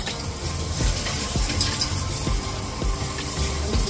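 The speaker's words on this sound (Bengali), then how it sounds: "আমি এবার এটা ধুয়ে নেব" Water runs and splashes steadily as a spice-grinding vessel is rinsed in a home kitchen, a continuous close wash with small knocks and no talking.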